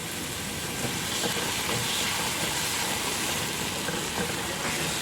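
Chopped tomato sautéing in a pan for ginisang ampalaya, a steady, even sizzle and hiss that continues throughout at moderate volume with no talking.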